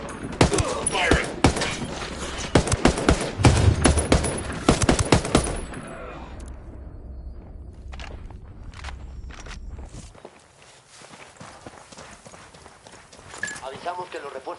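Gunfire in the video game Ghost Recon Wildlands: a dense burst of rapid sharp shots and crackling volleys fills the first few seconds, then gives way to quieter game ambience with someone speaking over it.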